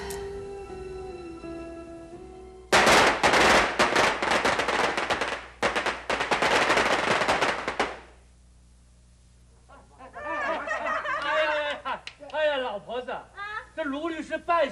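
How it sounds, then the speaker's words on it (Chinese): A long string of firecrackers crackles loudly in rapid bursts for several seconds, then stops, followed by people talking in a 1986 Chinese television drama scene. "喜事是明天的事了，你现在放什么鞭炮啊？"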